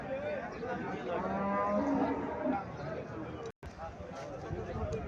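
Friesian cattle lowing in a busy outdoor cattle market, mixed with voices and general market noise, with a brief dropout near the end.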